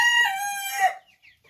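A Cochin bantam rooster crows once, loud and close, a clear harmonic call lasting about a second, followed by a faint trailing cluck.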